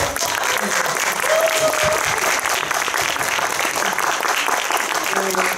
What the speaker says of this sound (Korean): 잠깐 일어나서 박수.